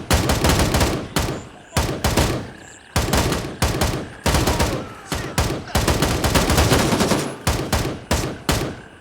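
Loud, rapid bursts of video game gunfire from Gray Zone Warfare crackle in repeated volleys with brief pauses between them, sounding like sustained automatic weapon fire up close.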